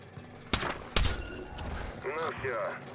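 Gunfire in the video game Splinter Cell Blacklist: two sharp, loud shots about half a second apart, followed by quieter warbling mechanical game sounds.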